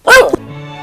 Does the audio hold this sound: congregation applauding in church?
no